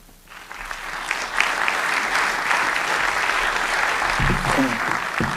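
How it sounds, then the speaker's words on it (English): A crowd applauds at the close of a debate on whether Jesus rose from the dead, a dense, sustained wash of clapping that swells quickly and holds steady throughout. "A final round of applause for both of them for their excellent debate tonight"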